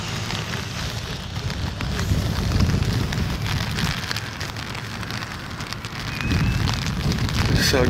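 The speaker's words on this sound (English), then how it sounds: "It is raining." Steady rain hisses and patters on a surface, a dense continuous wash of noise that swells slightly partway through, with no voices.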